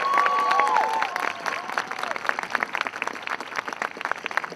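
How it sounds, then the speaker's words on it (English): A crowd applauding steadily at a rally at a state capitol, a dense patter of claps that carries on without a break, with some whooping at first. "Give them a round of applause."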